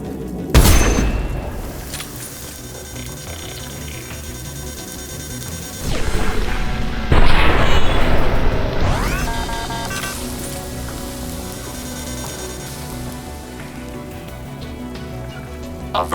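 Gunfire and booming explosions in the sci-fi shooter game Mass Effect 2, with loud blasts near the start and around the middle, followed by a sustained rumbling roar that slowly fades under musical tones.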